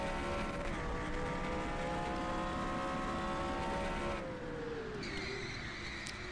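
Race car engine in the NR2003 racing sim holding a steady high drone, then dropping in pitch as it shifts into second gear, with a second engine tone joining near the end; loud and continuous.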